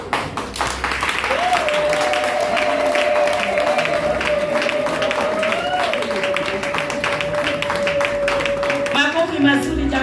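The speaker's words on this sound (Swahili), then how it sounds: "Makofi mazuri jamani, hajafika madhabahuni." A church congregation claps and cheers to greet an arriving guest, steady mass applause filling the room while a voice speaks and a sustained tone runs through it, the clapping dropping away at the very end.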